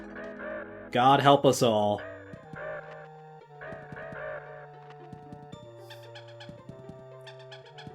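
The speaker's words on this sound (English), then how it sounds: "And now the birds." Cartoonish bird calls from the Donkey Kong Country 2 video game repeat in short, bright bursts over backing game music, with a voice speaking loudly over the sounds early on.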